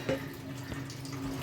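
Water poured into a cooking pot of mutton curry, a short close splash and gurgle with a faint trickle, brief and fairly quiet.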